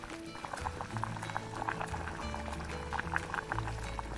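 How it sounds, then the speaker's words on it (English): Pork chops simmer in a lid-covered pot on low heat, a soft, continuous bubbling with faint popping, quiet and close. "Cover the pot with a lid, reduce the heat to low, and let it simmer for about 30 to 45 minutes."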